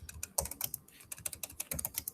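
Rapid typing on a computer keyboard, close and clear, with a steady run of sharp key taps and occasional heavier strokes, no voices over it.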